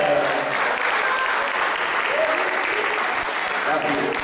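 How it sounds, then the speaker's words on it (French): Audience applause for a magician at an evening charity show in Maubeuge, France: a dense, steady wash of clapping from a sizable crowd that fills the room for several seconds, with some voices faintly mixed in. "Et on peut l'applaudir, comme il se doit."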